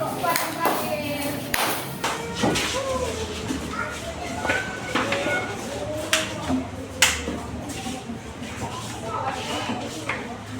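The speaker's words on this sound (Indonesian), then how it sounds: "Tepuk tangan untuk kelompok 3." A classroom of students claps for a presenting group, scattered hand claps and snaps rising unevenly over steady room chatter and talk, moderately loud and close.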